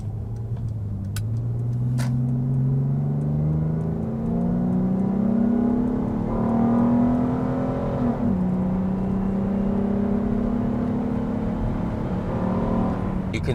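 A 2003 Acura 3.2CL with a J-series engine accelerates from the cabin, its engine note climbing smoothly through the gears with a shift and then rising again, steady and fairly close.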